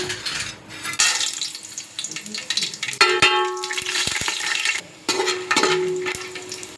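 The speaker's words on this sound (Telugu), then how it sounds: "ఇప్పుడు ముందుగా మసాలా అయితే వేపుకుందాం" Whole spices frying in a pan for chicken biryani, with a steady close sizzle broken by clinks and stirring scrapes, a brief pause near the fifth second, then crackling resuming.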